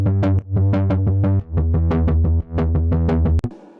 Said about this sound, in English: And then I took the bass note from the chord progression and I put it into a triplet, I believe 8th note rhythm.